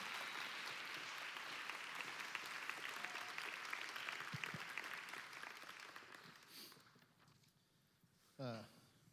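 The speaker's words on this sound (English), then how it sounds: "Can you applaud them, please?" A crowd at a gathering applauds steadily, dense clapping that slowly fades away over several seconds, followed by a brief bump of noise near the end.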